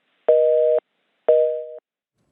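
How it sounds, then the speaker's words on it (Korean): Two telephone busy-signal tones on a call that fails to connect, each about half a second long with a pause between, loud and clean with no voices. "지금 잠시 전화 연결이 잘 안 되는 관계로"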